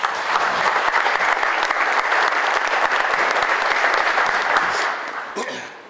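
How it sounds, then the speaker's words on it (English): Loud, sustained applause from a large crowd at a Black History Month event, steady clapping for several seconds before tapering off at the end. "So please give them a round of applause."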